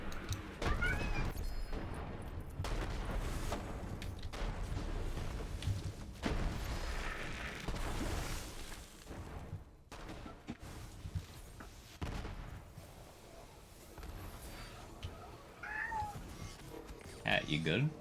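A house cat meows several times in short rising calls against a steady background of game gunfire and noise, with a person talking over it.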